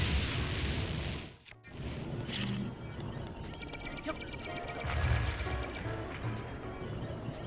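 Bomb blasts in the video game The Legend of Zelda: Breath of the Wild, a dense rumbling mix with a sharp booming burst early on and more heavy thuds later, set against layered game music and effects.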